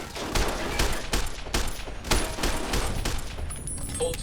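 Ceiling-mounted turrets fire in Fallout: New Vegas, a loud, sustained fusillade of overlapping shots with sharper bursts roughly every half second, running through the whole stretch.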